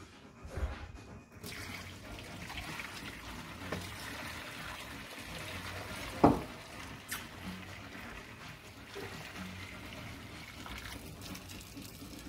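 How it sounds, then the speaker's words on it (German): Hot water is drained off a pot of freshly cooked pelmeni, a faint, steady trickle and splash that runs for several seconds with one sharper slosh midway. "jetzt muss er nämlich das Wasser ableeren"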